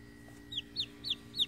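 A pet chicken gives four short clucks in a steady rhythm, close by, over a low constant hum with no talking.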